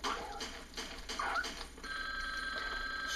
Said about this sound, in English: Pick up the damn phone already.